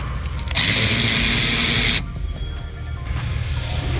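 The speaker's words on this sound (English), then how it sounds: "Now we're gonna remove the caliper bolt." A power tool, likely an impact wrench, spins off the 40mm rear caliper bolt on a 2007-2018 Nissan Altima. It gives one loud, hissing burst of about a second and a half, then falls back to quiet workshop background.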